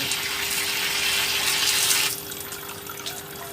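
Water wrung out of a wet material used for incubating cricket eggs, a steady close splashing trickle that stops abruptly partway through, leaving only faint background hum.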